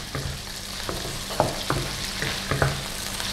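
Slices of beef sizzle steadily in a pan for Japanese-style yaki udon while a spatula stirs and scrapes with irregular clicks, close up, with no talking.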